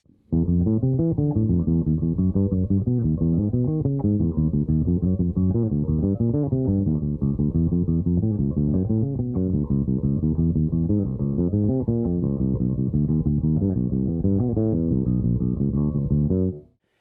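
Bass guitar plays a II-V-I line that steps downward in half steps, steady and continuous throughout, with no talking.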